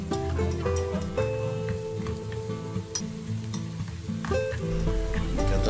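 Dried anchovies fry in a pan over low heat while being stirred, giving a continuous sizzle with scraping strokes beneath background music.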